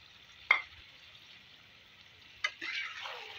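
Tomatoes dropped into chicken frying in oil for koyla karahi: two sharp sizzling bursts a couple of seconds apart, the second swelling into a sustained crackling fry, fairly quiet and close.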